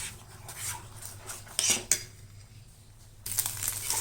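Utensil scraping and clinking against a pan while stirring egg fry masala, with faint rubbing strokes and a few sharper metallic knocks, alone without talk.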